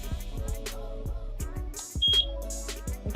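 A EufyCam 3 security camera gives a single short, high electronic beep after its sync button is pressed, heard over a rhythmic background of repeated thudding knocks.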